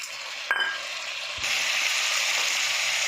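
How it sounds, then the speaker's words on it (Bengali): Tomatoes dropped into a hot frying pan: a quiet hiss jumps into a loud, steady sizzle that continues to the end, with no voices. "এবার টমেটোটা দিয়ে দেবো।"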